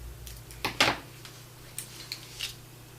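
Scissors snip through magazine paper close by, a few sharp crisp cuts clustered early, then lighter, fainter snips spaced apart over a quiet background.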